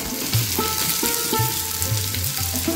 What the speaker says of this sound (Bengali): এবারে দিচ্ছি একটা পেঁয়াজ কুচি, আর দিলাম 4টে কাঁচা লঙ্কা। এটাতে পেঁয়াজ আমি খুব বেশি ভাজা ভাজা করবো না